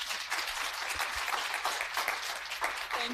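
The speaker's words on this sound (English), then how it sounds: "Please give them a round of applause." An audience applauds panelists at a funding session, a sustained, fairly distant patter of many hands clapping at even intensity throughout.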